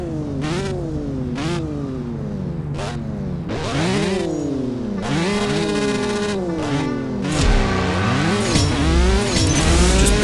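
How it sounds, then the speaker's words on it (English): A car in the mobile racing game CSR Racing 2 accelerates hard through its gears, the engine climbing loud and close, dropping back briefly at each shift and revving up again, several times in a row. "this car picks up speed really quickly, like in every single gear"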